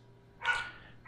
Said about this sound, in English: So my dog's barking really loud.